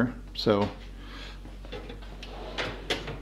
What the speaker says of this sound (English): let me walk you through what's in the craftsman drawers below here